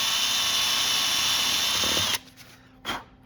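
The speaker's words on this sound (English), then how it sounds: "Just opening that up with the countersink, nice and neat." A power drill spins a countersink bit to widen a screw hole for a bean plate install, a steady close whine for about two seconds before stopping, then a brief faint rattle.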